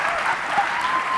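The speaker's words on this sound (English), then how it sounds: "You can clap." An audience claps at a morning show event, a steady, dense burst of applause throughout the short moment.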